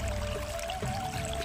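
Water pours from a pipe onto a mustard field, a quiet, steady rushing trickle that runs unbroken for a moment with no talking.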